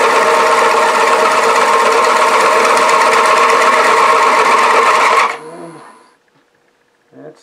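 A woodturning lathe runs steadily while a tool cuts a rope-texture bead around the top of a cherry bowl, a loud continuous buzzing whir for about five seconds before the machine spins down and falls quiet.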